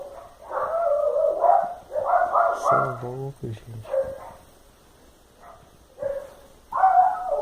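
A puppy in a house gives a short burst of sharp barks midway, set between stretches of someone talking close by.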